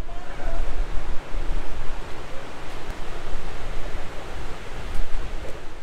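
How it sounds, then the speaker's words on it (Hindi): Surf rolls in at Kuta Beach in Bali on a sunny day with surfers out, a steady, close, full roar of breaking waves mixed with wind, with no voices. "लो भाई कुटा बीच आ गए हैं, अभी आपको कुटा बीच दिखा दो।"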